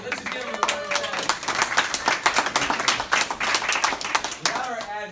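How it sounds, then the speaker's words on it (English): People at a real estate team meeting applaud their admin staff, a lively burst of sharp, close claps from a modest room crowd lasting several seconds, with some cheering voices mixed in. "Let's just give them a round of applause."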